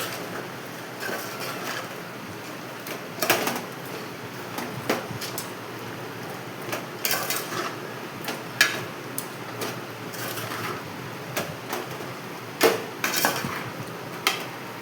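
Metal spoon scrapes and clinks against a pot while country chicken curry with salt, turmeric and curry leaves is mixed, with irregular close knocks and stirring noises and no talk.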